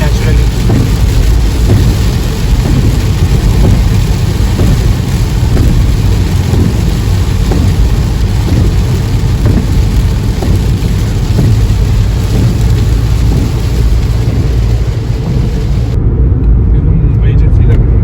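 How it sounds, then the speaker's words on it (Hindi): Heavy rain drums steadily on a car driving on a highway road trip from Bengaluru toward Hyderabad, with rumbling thunder and road noise underneath, loud and unbroken, while people talk inside the car. "हो रही बारिश आ गई।"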